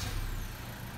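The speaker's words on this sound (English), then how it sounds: "Vehicle starts." A 2018 Honda Civic engine turning over and settling into a steady idle after a factory key-fob remote start, heard as a continuous low rumble close by with no talking.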